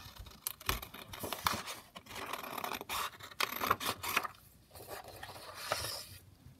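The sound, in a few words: cutting out a paper ephemera banner piece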